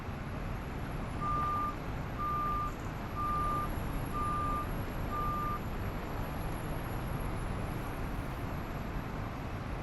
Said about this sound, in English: The other rock truck seems to handle a little better.